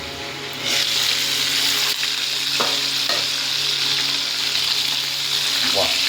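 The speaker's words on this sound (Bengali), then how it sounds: "মাছটা হয়ে গেছে মোটামুটি ভাজা আসছে" Bhola fish frying in a pan with oil, a steady loud sizzle running throughout, broken by a few scraping stirs of a spatula.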